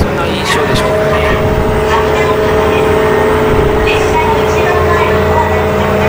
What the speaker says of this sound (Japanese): やっぱりディーゼルの音が激しいでしょうかね